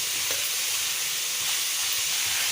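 Homemade noodles stir-fried in a pan over a gas stove give off a steady, dense sizzle with faint scraping from stirring. It is close and continuous with no talking.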